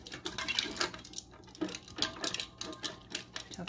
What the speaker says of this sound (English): Now I'm stirring this up